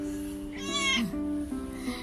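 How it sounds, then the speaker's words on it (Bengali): A neighbour's pet cat in a garden gives a single clear, close meow that rises and falls over about half a second against a quiet steady background hum. "আমাদের পোষা বিড়াল নয়, কারুর পোষা বিড়াল মনে হয়।"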